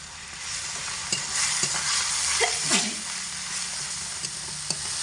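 Spices with salt and turmeric fry loudly in a pan on medium heat, a dense close sizzle with intermittent scraping stirs and clinks of a spatula, no voices.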